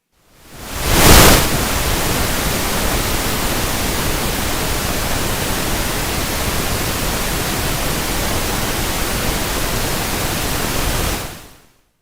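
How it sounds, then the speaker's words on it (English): Pink noise test signal captured by an omni microphone in a controlled room with the noise all around: a steady, loud, even hiss that fades in, swells briefly near the start, holds for about ten seconds and then fades out. "If we do this experiment in a controlled environment with pink noise all around, it sounds like this."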